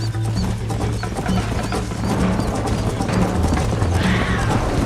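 In the Red Dead Redemption video game, a horse gallops in a race with rapid rhythmic hoofbeats under a low rumbling bed, close and steady, with a brief whinny-like snort.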